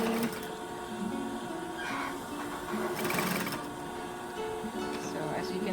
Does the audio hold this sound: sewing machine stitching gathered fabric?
yes